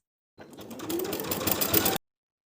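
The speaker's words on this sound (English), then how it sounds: "Baste across those attached edges with a 1/4 inch seam allowance." A sewing machine runs a basting stitch across the attached bottom edges of a pintuck poet blouse at a quarter-inch seam allowance, a steady close whirring burst of about a second and a half that starts with a short ramp-up.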